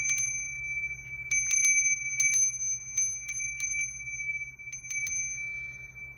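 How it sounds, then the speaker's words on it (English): A small bell rings repeatedly in bright, clear strikes, several quick dings in clusters with a sustained ringing tone between them over a low steady hum. "I wanted to ring my bell."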